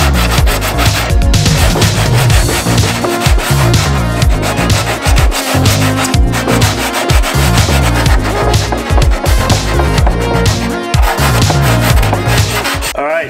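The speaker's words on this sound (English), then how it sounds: "let's get to sanding" Hand sanding with 80 grit sandpaper on a plastic Harley-Davidson FXR motorcycle fairing makes loud, rhythmic back-and-forth scraping strokes close to the microphone, steady throughout with no talk.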